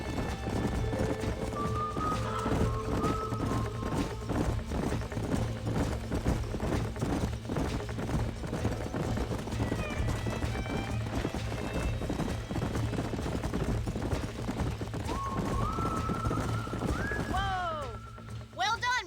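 Horses trotting in the Red Dead Redemption video game, steady hoof clip-clops running throughout at moderate loudness, with a neigh near the end and voices talking over the hooves.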